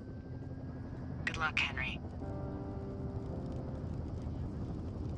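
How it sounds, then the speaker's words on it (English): A helicopter in the video game Firewatch gives off a faint, steady low drone in the background while a voice briefly speaks over it. "There's the helicopter."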